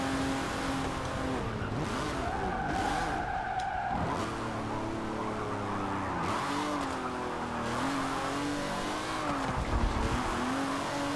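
Race car engine whines and shifts pitch while tires squeal through a turn in Forza Motorsport 7, a continuous, close in-game roar with skidding layered over it.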